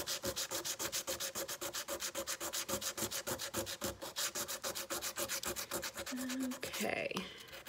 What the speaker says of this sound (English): Sometimes it comes off pretty easily, and other times you really gotta sand it.